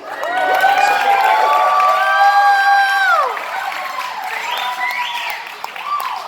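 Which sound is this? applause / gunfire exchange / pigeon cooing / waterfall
applause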